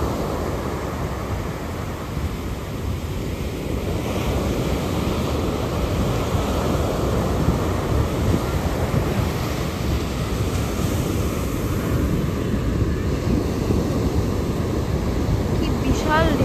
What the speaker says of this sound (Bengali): বিশাল বিশাল ঢেউ আসছে দেখো, জোয়ারের টাইম এখন